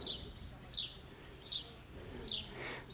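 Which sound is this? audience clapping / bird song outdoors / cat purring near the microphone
bird song outdoors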